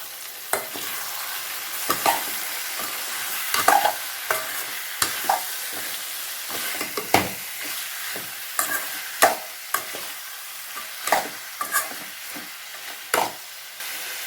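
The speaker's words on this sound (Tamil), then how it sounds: "சிக்கனை அந்த எண்ணெயிலே நல்லா வணக்கிக்கலாம்" Chicken frying in oil with tomato in a pan for a chicken gravy, a soft steady sizzle broken by repeated scraping stirs and clacks of a spoon against the pan, close and without talk.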